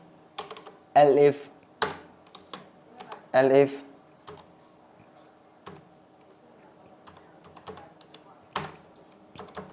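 Computer keyboard keys tapped one at a time while Python code is entered, sparse crisp clicks spread unevenly across a quiet room, with a couple of brief spoken words in between.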